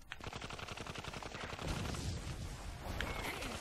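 Giant laser bear firing lasers in the video game Hell Yeah!, a steady stream of rapid zapping blasts mixed with game explosions, loud and continuous with no talk.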